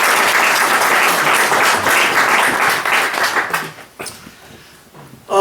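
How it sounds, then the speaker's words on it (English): An audience claps in welcome for a speaker at a talk, steady loud applause that thins and fades out toward the end, followed by a brief sharp burst of sound. "So if we give a little round of applause."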